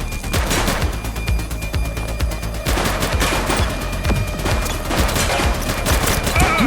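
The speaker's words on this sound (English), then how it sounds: "Shots fired!" Sustained automatic gunfire in a police shooter video game, dense rapid bursts of shots that keep going without a break, loud and close.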